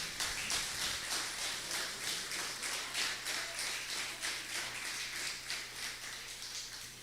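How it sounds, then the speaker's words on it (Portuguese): A church congregation at an Easter service claps together in a steady, rapid wash of applause, fairly even in loudness throughout, with a faint low hum underneath and no talking. "vamos começar aplaudindo ao Senhor"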